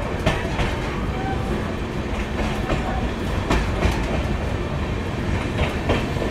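A train pulls into Bolpur Shantiniketan station with a steady, close rumble and rhythmic clickety-clack of wheels over rail joints, continuous throughout with no talk.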